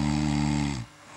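A person snores with one long, loud, rasping inhalation that cuts off abruptly, close up and on its own.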